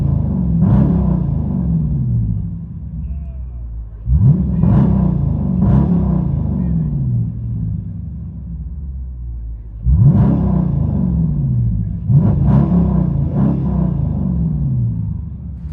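A black 2018 Dodge Challenger R/T with a 5.7 HEMI V8 and mid-muffler delete, heard from inside the cabin, rumbles at idle between several deep throttle blips that swell and fade.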